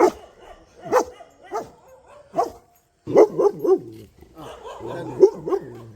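Pet dog barking in short, repeated bursts near the microphone, with pauses between, then a denser cluster of sharp barks and yips toward the end.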